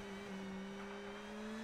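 A rally car on a gravel stage at the Acropolis Rally in Greece holds a steady, droning engine note that rises slightly in pitch, heard at a distance with no voices.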